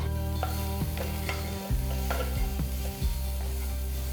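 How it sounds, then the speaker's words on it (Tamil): Fried mushrooms are stir-fried in a pan with chopped garlic and spring onion, a steady sizzle broken by repeated scraping and tossing strokes of a spatula. "அடுத்து ஃப்ரை பண்ண மஷ்ரூம்ஸ் அதில் போட்டு நல்லா மிக்ஸ் பண்ணணும்."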